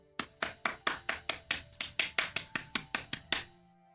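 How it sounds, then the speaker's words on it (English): Fourteen sharp claps in a steady, quick rhythm from two people standing at a small birthday celebration after candles are blown out, heard close and alone before the claps stop. "they both stood up clapping."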